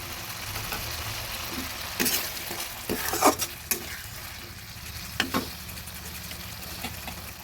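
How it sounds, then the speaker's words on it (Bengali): Chopped tomato drops into spices frying in a pan for a vegetarian broccoli dish with potato and peas, bringing a steady sizzle under several scraping stirs and clinks of a spatula, close and moderately loud, with no talking. "আমি একটা টমেটোকে ছোটো ছোটো করে কেটে দিয়ে দিচ্ছি"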